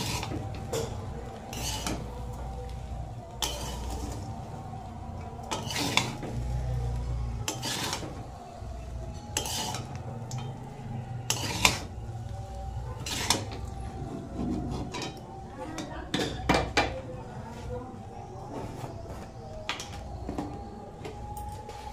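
Fried rice being stirred and tossed in a pan over lowered heat, with steady scraping and clinking of a utensil against metal and repeated light knocks, continuous and close throughout.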